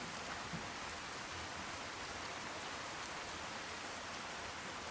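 Steady rain from the video game Fallout 4, a dense, even hiss of falling drops that goes on without a break, fairly quiet, with no talking.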